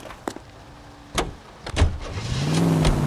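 A car in the LA Noire video game, with door clunks followed by the engine starting and revving up as it pulls away, near and fairly loud.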